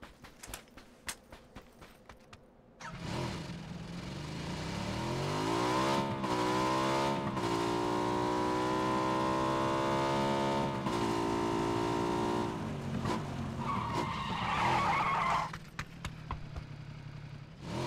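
A motorbike in PUBG on the Miramar map revs up and holds a steady, rising engine drone for several seconds, then a scraping skid near the end, with scattered clicks and faint talk around it.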